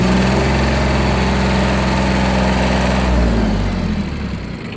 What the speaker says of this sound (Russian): Двигатель работает ровно, без каких-либо посторонних шумов.